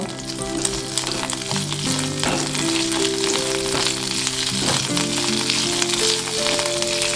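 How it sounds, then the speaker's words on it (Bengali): Chopped capsicum frying in oil for cabbage Manchurian gives a steady, close sizzle throughout, with soft tonal sounds running beneath it. "এই তেলের মধ্যে আমি একটা ক্যাপসিকাম ছোট ছোট করে কেটে রেখেছি সেটা দিয়ে দিলাম ক্যাপসিকাম একটু ভেজে নেব"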